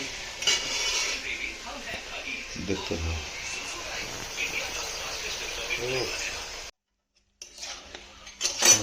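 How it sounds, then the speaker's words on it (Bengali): Fried rice being stirred and mixed in a pan, with close metallic scrapes and clinks of a utensil against the pan over a faint sizzle, while a person talks throughout. "রাইস মেশানো হচ্ছে"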